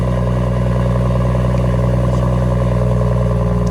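A BMW M140i engine idles just after starting with a deep, steady burble, loud and close, holding an even rumble throughout.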